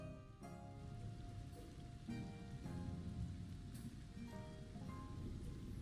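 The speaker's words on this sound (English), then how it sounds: "Hearing that rain kick in" Steady video-game rain hisses softly and evenly throughout, with faint sustained musical tones and occasional soft ticks layered underneath.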